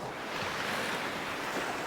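Rough sea water surges and breaks against rocks on the Northumberland shore at Beadnell, a steady, close, hissing wash of surf mixed with wind noise and no voices.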